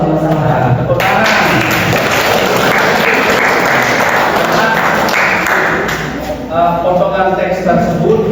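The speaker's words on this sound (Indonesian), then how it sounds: "tepuk tangan" Clapping breaks out in an Indonesian-language class lesson, a dense patter for several seconds with scattered thumps, taps and voices mixed in, then thinning out.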